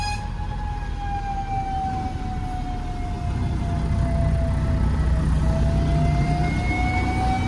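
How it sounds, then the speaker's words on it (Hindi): A fire engine siren wails steadily with a slow, gliding pitch above the constant rumble of a traffic jam, loud and close throughout with no talking. "वाह भाई फायर ब्रिगेड"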